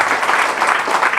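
A church congregation cheers and claps together in a loud, continuous wash of applause and voices that swells and dips slightly, with no single voice standing out.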